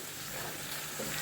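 Cooked food tossed with ghee and stirred in a pot gives a steady, close hiss with soft scraping, with no talk over it.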